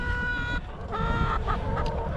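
Several hens cluck and croon close by in short, overlapping bursts, with a busy farmyard murmur underneath and no talking.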